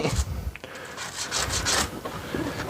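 Scrubbing of hair off the brush roll of a Hoover PowerDash Pet carpet cleaner, a close, soft bristly rubbing in uneven strokes with no voices.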